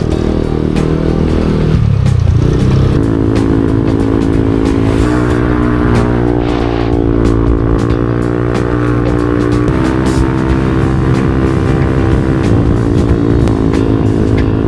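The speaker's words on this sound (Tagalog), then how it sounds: "Pagod na yung motor." A loud, close motorcycle engine runs continuously on a bumpy road near Tagaytay, its pitch rising and settling as the rider revs and shifts.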